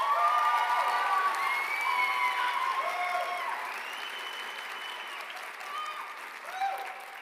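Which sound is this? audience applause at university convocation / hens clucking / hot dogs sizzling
audience applause at university convocation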